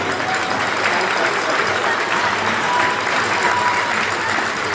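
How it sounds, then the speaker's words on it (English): Audience applause for both teams at a women's volleyball championship bronze semifinal, a dense steady wash of clapping from a large crowd, sustained throughout. "Let's give it a huge round of applause once again for both teams."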